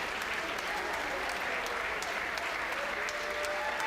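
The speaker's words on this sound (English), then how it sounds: "the Republican side of the aisle kind of died down on the applause there a little earlier than usual" Lawmakers in a state legislative chamber applauding during a State of the State address, a steady wash of distant clapping with a faint voice underneath.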